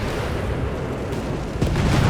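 A vehicle explodes in Company of Heroes 3, a deep rumbling boom with a sharp secondary burst near the end, heard against continuous low battlefield noise.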